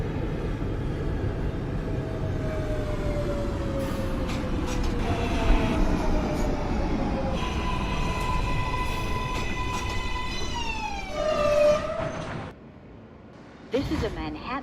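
An NYC Subway R143 J train in the OpenBVE simulator runs steadily with a loud rumbling roar and rising, whining motor tones, then slows with squealing tones near the end; no one speaks.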